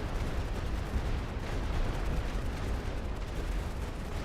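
Maxim machine gun fire in the World War I strategy game The Great War: Western Front, heard as a low, continuous rumble of distant, rapid gunfire with some artillery mixed in, fairly quiet and without voices.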